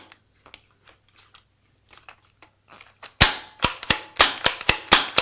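A PMI Tracer paintball marker, freshly reassembled, gives a series of sharp, loud metallic clacks as it is cocked and worked repeatedly, following quieter fiddling clicks of handling.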